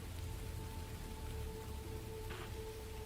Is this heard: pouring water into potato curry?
no